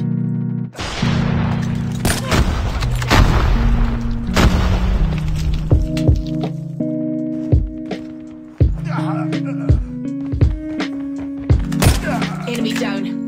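Loud booming grenade blasts and bursts of gunfire from a first-person shooter video game, with heavy thumps, sharp shots and tonal game sounds layered close together.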